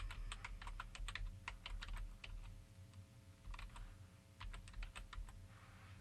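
Rapid typing on a computer keyboard, keys clicking in quick bursts with a short pause midway, fairly close and clear with no one talking.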